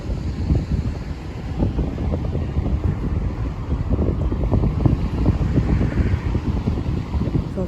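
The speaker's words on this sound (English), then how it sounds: "Let's get outside this wind." Wind blowing outdoors at a fire and rescue museum in Scotland, a loud continuous low rumbling buffet against the microphone throughout, with no talk.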